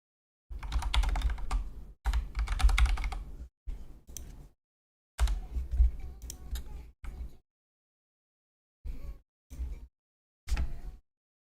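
Rapid clattering keystrokes on a computer keyboard come in several close, dry bursts separated by pauses, with a few isolated taps near the end.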